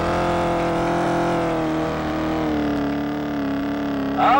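Race car engine in the video game Test Drive Eve of Destruction, a loud sustained roar with shifting pitch as it revs, and a short burst of added noise near the end.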